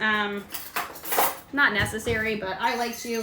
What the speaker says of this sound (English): I like to give it just a little bit of a whisk